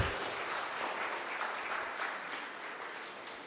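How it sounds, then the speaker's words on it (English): Dense, sustained applause from an audience at a gathering on integrity, greeting Mr. Dattu Suptankar, a retired Chief Secretary of Maharashtra; steady wash of many hands, moderately soft and slowly tapering. "Let's give him a warm round of applause."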